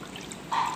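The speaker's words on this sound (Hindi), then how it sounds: "अब हमने इसको डालना है एक बाउल के अंदर, और इसी के साथ हमने इसके अंदर डालना है पानी" Water pours into a bowl holding washed goat brains, a soft faint background hiss followed by a brighter, louder splashing stream that starts partway through and continues to the end.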